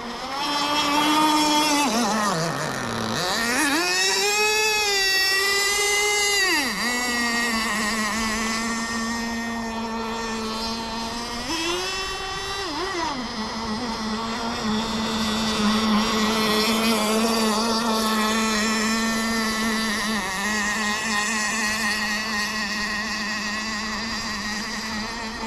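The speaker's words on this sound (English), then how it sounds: "Not really the fastest boat on the water, but it sure is fun to drive." A Blackjack 26 nitro RC boat engine drones on open water, its pitch climbing and falling with throttle changes, loud and continuous throughout.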